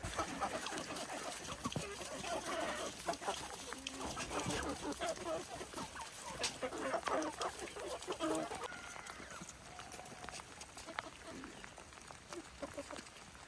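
Meat chickens cluck and squawk continuously inside a coop, mixed with rustling and some background chatter, fairly close by throughout.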